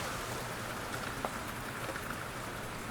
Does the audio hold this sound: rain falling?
yes